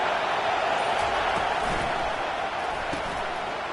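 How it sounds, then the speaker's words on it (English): Stadium crowd noise from a USC versus Georgia college football video game: a steady, dense roar of many voices that holds level throughout with no breaks. "It's early, but this crowd is fired up. Listen to this noise here."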